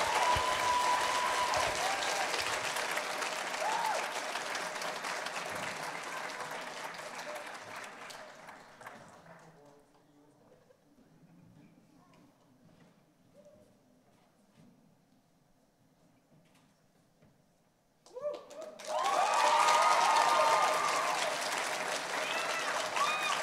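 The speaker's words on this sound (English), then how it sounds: "Please give a round of applause to our president, Jennifer Myers" An audience at a 2021 choir spring concert bursts into strong applause that slowly fades to near silence, then a second loud round of clapping erupts and continues to the end.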